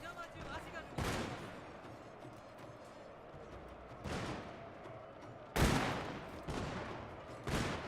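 Musket volleys in Shogun 2 Total War crack out as a few separate loud bursts spread over several seconds. A faint din of battle continues beneath them, and someone talks between the shots.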